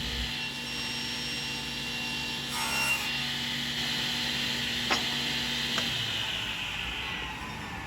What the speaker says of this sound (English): we're going to cut all 4 sides, rotating the block on each pass so that we get a consistent shoulder all the way around